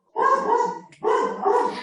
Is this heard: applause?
no